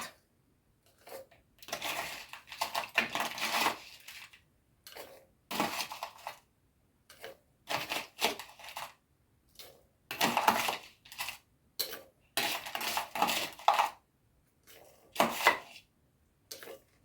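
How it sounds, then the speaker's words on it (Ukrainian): Ice cubes poured and scooped into a medical rubber ice bag, making repeated close, clattering bursts of hard cubes knocking together in uneven clusters separated by short pauses, with no voice. "насипаю лід"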